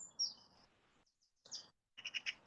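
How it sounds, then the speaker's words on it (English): Birdsong outdoors near trees: a few short, bright chirps and trills separated by quiet gaps, moderately close and otherwise calm. "the first thing that I become aware of is the bird song, which is so amazing"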